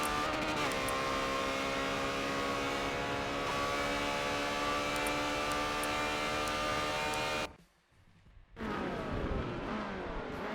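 Ferrari 360 Challenge Stradale race cars roar past on the Hockenheim circuit in a Cup race, a sustained loud high-revving engine drone with shifting pitch, a sudden brief drop to near silence, then engines snarling back in.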